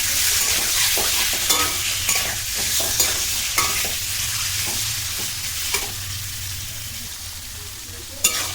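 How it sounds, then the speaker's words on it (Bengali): Drumstick stalks being stirred in hot oil in a pan for a pickle, giving a steady loud sizzle with repeated scraping strokes of the spoon throughout, no voices. "এইভাবে বেশ কিছুক্ষণ ধরে ভালো করে নেড়ে নিতে হবে তেলের ওপরে।"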